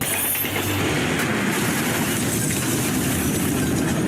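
A steady rumbling train in a film scene runs past at moderate distance, with continuous rolling wheel noise and a faint rhythmic clatter.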